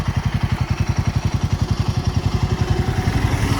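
A motorcycle engine idles close by in a hill-country tea estate setting, with a steady, rapid pulsing thump that holds for a few seconds with no voices.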